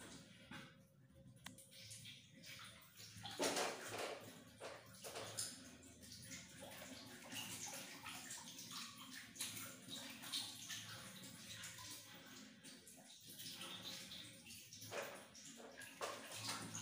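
Multigrain being washed by hand in a basin of water to separate starch from chaff, with continuous sloshing and splashing at close range and no talk.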